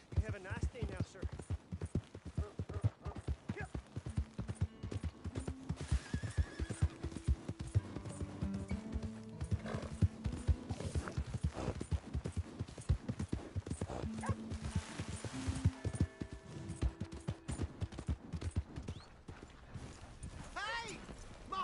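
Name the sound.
horse neighing and hooves, from video game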